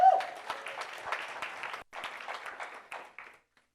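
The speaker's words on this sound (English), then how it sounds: "Can we round of applause for that?" Audience members at a Women's History Month achievement event give a short, fairly faint round of applause, with scattered claps that thin out after a few seconds.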